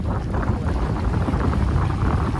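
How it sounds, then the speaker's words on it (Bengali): Steady, loud roar of sea surf breaking on rocks on the Jubail shore, a dense rushing wash with no distinct breaks, heard up close with wind buffeting the microphone. "অনেকটা ঢেউ আসেই, দেখেন এখানে কতবার একটা ঢেউ"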